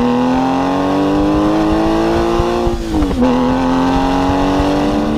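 An RPM Technik CSR, a Porsche 911-based car with a flat-six engine, revs loudly up close with a steady rising howl, a brief throttle lift and dip in pitch, then climbs again.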